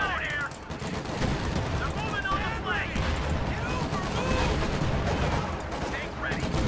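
Anti-tank gun fire and battle sounds in the World War II strategy game Company of Heroes 2, Ardennes setting, with dense repeated gunshots and booms forming a steady loud barrage, while a voice talks over it.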